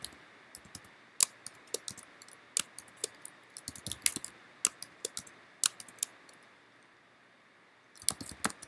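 Someone types search terms on a computer keyboard, producing irregular bursts of sharp, close key clicks with brief pauses between them and a longer gap before a final flurry.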